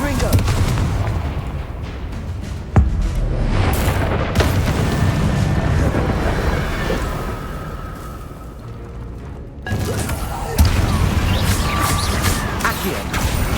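The explosive Confringo spell cast in the game Hogwarts Legacy, heavy booms and blasts bursting out over dense game noise, loud and close, with a voice speaking at times.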